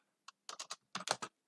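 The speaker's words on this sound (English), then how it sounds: "now I'm typing as" Keystrokes on a computer keyboard while code is entered in a browser developer console: a single tap, then a quick run of three, a pause and another cluster of four, close and crisp with no talk.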